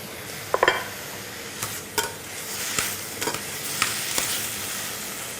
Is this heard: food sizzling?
yes